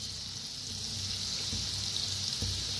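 Sev dough frying in hot oil until crisp, a dense, steady sizzle close by with a few soft knocks, and no talking.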